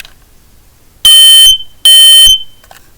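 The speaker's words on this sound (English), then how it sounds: "it's a pretty nice, pretty decent smoke alarm. I'm going to give you a test" A smoke alarm blares two loud, piercing beeps, each about half a second long, separated by a short gap.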